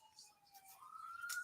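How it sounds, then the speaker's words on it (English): A siren playing faintly over a live stream, a thin wailing tone that slowly glides upward and then holds, quiet and close, with brief clicks near the end. "give me a second while I mute this freaking siren"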